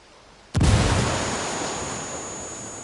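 A grenade goes off in a video game, one sudden loud blast after a short quiet lead-in, then a long rushing, roaring decay that fades slowly, like debris and echo settling, with no talking.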